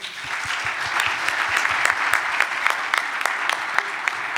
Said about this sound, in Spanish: Un aplauso para estos chicos, por favor.